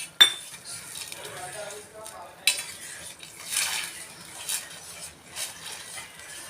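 A spoon stirs cornflour mixture into a pot of mixed vegetable soup, making scattered metallic clinks and scrapes against the pot. The clinks are close and moderately loud, with faint background noise between them.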